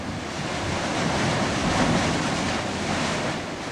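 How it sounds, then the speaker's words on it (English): Steady rushing wash of ocean surf breaking onto lava rocks with a low rumble, continuous and fairly close, swelling slightly in the middle, with wind noise over the microphone. "water from the ocean comes in here and kicks up a bit"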